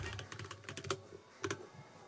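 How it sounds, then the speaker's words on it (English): A clicky computer keyboard is typed on in quick, close bursts of sharp key clacks, then pauses and resumes with a few more strokes. "This keyboard is very clicky."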